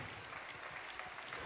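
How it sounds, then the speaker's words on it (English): A church congregation claps hands together in worship, a faint, even wash of clapping heard at a distance with no voices over it. "Let's clap our hands and thank the Lord."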